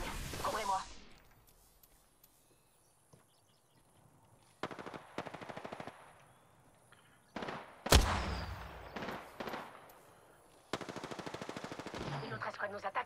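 Bursts of automatic gunfire from an enemy squad in a battle royale shooter, rattling in several separate volleys of differing loudness with quieter gaps between, mixed with game effects.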